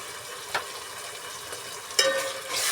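Ginger garlic paste frying in a pan for spinach rice, stirred with a spoon: a steady soft sizzle with a few sharper scraping strokes, no talking.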